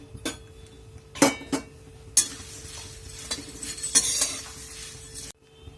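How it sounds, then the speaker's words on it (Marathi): Puffed rice (churmure) roasting in a hot kadhai over a high gas flame, with scattered clinks and scraping taps of a utensil against the pan over a faint, steady crackle; nearby, no talk. "इथे मी गॅस मोठा ठेवूनच हे चुरमुरे भाजून घेते आहे"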